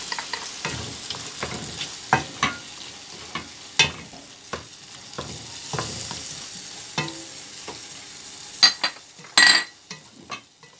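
Chicken pastilla filling with mushrooms is stirred in a hot pan over a steady low sizzle, with repeated scraping strokes and occasional sharp clinks of the utensil against the pan.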